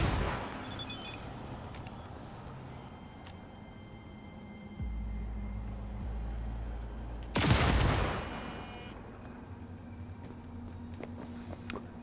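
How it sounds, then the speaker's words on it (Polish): Gunfire from shooting mines in the video game Cyberpunk 2077, with a loud burst of shots standing out near the middle over low background game ambience and footsteps. "Udało się tym razem jednym strzałem dwie miny zdjąć."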